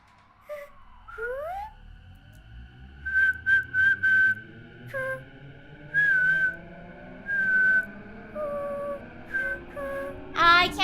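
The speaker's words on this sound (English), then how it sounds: "I can't harmonize my hums with my whistling." Someone whistles a wavering, halting tune in short bursts and slides, with a quieter hummed tone sliding in places, sounding close and solo with no talking.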